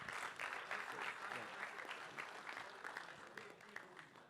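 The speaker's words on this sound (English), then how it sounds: "Let's give him a big round of applause again" Audience at a horse racing preview event breaking into applause, a fairly faint, continuous patter of many hands with brief louder peaks, and a few voices mixed into it.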